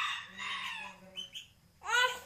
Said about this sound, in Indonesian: Burung ketilang.